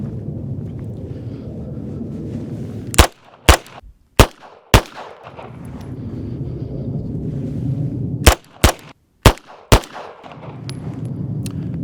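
Beretta M9A3 9mm semi-auto handgun firing controlled pairs: two groups of four sharp, loud shots, each pair spaced by a short pause, over steady outdoor background noise.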